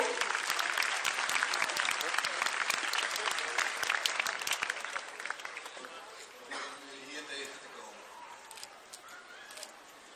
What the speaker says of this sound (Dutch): Applaus voor deze lopers.